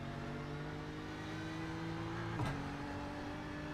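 A BMW M4 GT3 race car engine drones steadily at a constant pitch in the iRacing sim, fairly faint and unbroken, with a brief shift or blip around two and a half seconds.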